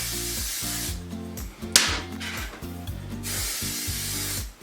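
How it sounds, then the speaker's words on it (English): PME cake release spray coats small baking tins in several short, sharp hissing bursts, close and loud, with a low hum running underneath between sprays. "I'm using my PME cake release spray, or release a cake spray, I believe it's now called."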